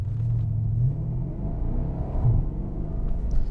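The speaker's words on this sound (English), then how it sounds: "It's got a nice little pop in the exhaust" A 2013 Porsche Panamera GTS naturally aspirated V8 gives a low, steady exhaust rumble idling close by, with slight swells in level and no talking.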